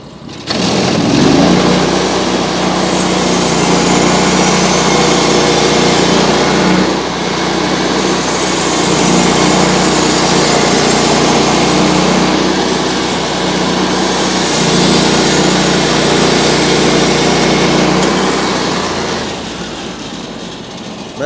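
A sawmill blade cuts round wood cookies from a log, 1/2 inch thick each, giving a loud, steady mechanical whine and engine drone that holds for about twenty seconds with slight dips between cuts.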